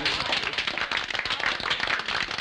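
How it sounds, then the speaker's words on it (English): Audience applause at a 1963 stage show, broad sustained clapping from a crowd, steady and moderately distant with no clear voice over it. "round of applause, please"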